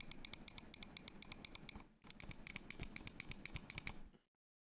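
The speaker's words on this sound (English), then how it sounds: "we will be clicking each and every button" A Logitech G Pro X Superlight gaming mouse is clicked in a fast, close series of sharp button clicks, a short pause midway, then another rapid run before silence.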